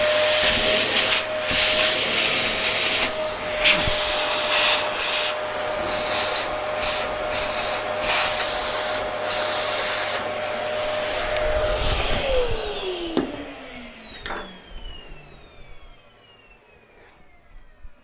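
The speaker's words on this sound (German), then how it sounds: "Und jetzt probiere ich mal, ob das mit Staubsauger schon rausgeht." A vacuum cleaner runs loud and steady close by while lifting a model railway turntable installation on a gauge 0 layout, then powers down with a falling whine near the end, leaving small knocks and handling noises.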